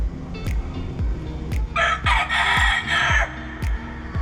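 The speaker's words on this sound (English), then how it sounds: "Roosters over here, making all sorts of noise" Roosters crow repeatedly, loud and near, with clucks and rhythmic low thumps around them, heard in a tiled building inside a cave.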